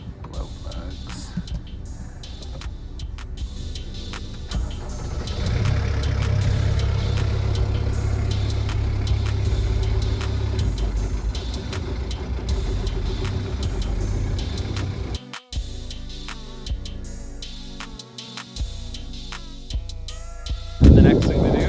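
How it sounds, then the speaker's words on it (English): A sailboat's engine idling out of gear, a steady low rumble that swells as throttle is added, with clicks and knocks around it and a brief drop near the end. "Pull this out of gear, give it some throttle."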